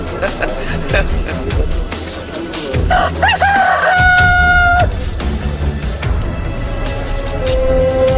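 A rooster crows during a church Easter dramatization of Peter's denial, a loud drawn-out cock-a-doodle-doo in the middle of the clip. It rises over steady crowd babble and background noise, with a fainter call near the end.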